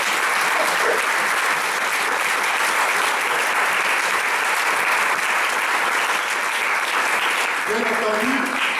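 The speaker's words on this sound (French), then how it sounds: "Est-ce qu'on peut applaudir le Seigneur?" A church congregation at a youth gathering of a Christian assembly claps in sustained, loud, steady applause filling the room for several seconds, with faint voices near the end.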